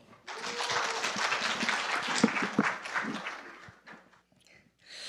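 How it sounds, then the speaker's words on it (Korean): A Korean church congregation breaks into applause after a call to clap during a testimony, building quickly, holding dense and loud, then thinning out to scattered final claps. "박수!"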